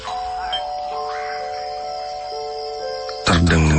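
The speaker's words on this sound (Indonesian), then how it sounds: "terdengar suara bel." An electronic house doorbell at the front gate of a company mess gives a sustained chime tone, then a louder, fuller second chime near the end, ringing alone and close.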